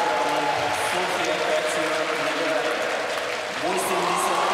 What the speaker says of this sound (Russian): действительно взрывается зал аплодисментами